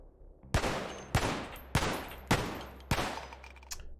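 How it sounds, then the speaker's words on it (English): Five evenly spaced gunshots ring out in the Cataclysm DDA video game, each sharp crack decaying into a short rumble, followed by a fainter sixth report, with no talk over them. "Alright, let's go ahead and start shooting."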